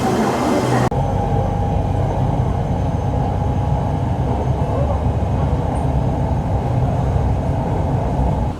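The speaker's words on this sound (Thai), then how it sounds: "สายสีแดงวิ่งได้ 160 กิโลเมตรต่อชั่วโมง เท่ากับความเร็ว รถไฟฟ้าความเร็วสูงบางประเทศทุกคนเนาะ" An SRT Red Line commuter train in Bangkok pulls into a station with a loud, steady rumble and roar that holds throughout, after a brief sharp transition near the start.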